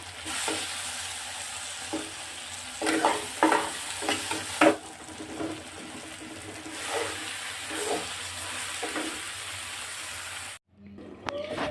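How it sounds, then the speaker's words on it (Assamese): Vegetables with salt, turmeric, crushed garlic and ginger, cumin and coriander powder frying in a pan, with steady sizzling broken by several louder stirring scrapes, close and continuous until a sudden cut near the end. "নিমখ হালধি সোৱাদ অনুযায়ী দি অকণমান সময় ভাজি লওঁ গোটেইখিনি"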